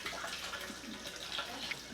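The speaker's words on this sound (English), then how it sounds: "I'm heating up water over here in my faucet" Water runs steadily from a home faucet as it warms up, a constant broadband hiss that carries on alone and close for the full two seconds.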